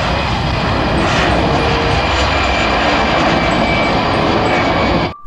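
An Air Asia passenger airplane roars with a loud, continuous engine drone that holds steady for about five seconds before dropping off abruptly at the end, with no talking.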